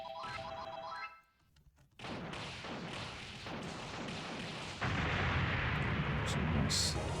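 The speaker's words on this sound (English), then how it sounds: "Some nice satisfying explosions and subtle use of the zoom on hardware." Explosions and gunfire-like blasts from an arcade shooter emulated in MAME, dense and continuous with a brief lull before a louder stretch of booming impacts.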